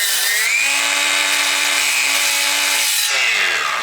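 A DeWalt 20V 7 1/4 inch sliding chop saw cuts wood trim. The motor spins up, holds a loud, steady whining cut for a few seconds, then winds down, close and alone.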